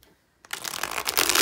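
A Prairie Tarot deck of standard tarot-size cardstock being shuffled up close, a dense riffling flutter that starts abruptly after a brief silence and builds louder.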